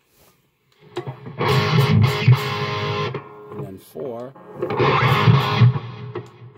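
An electric guitar with heavy distortion through a Blackstar Silverline amp head rings out in two loud, sustained chord bursts, with someone speaking briefly in the gap between them.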